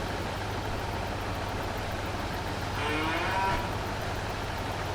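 Cattle in Farming Simulator 22, with one drawn-out moo in the middle over a steady engine hum from a farm vehicle driving among the herd, and no voices.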